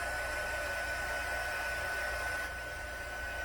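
A heat gun blows steadily while drying ink on a paper card, a constant close whooshing hiss with no break across the clip.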